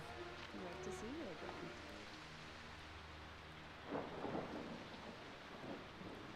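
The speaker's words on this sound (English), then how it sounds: "I've never had the balloon tower actually get struck by lightning." Thunderstorm in the Jurassic Park: Operation Genesis video game, a steady hiss of rain with low rumbling thunder and a louder crack partway through, quiet under someone talking.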